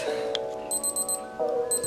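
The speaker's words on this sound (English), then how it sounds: "My timer's about to go off." A kitchen timer alarm goes off with a fast run of repeated high electronic beeps in two short bursts, close and clear over a steady tonal background.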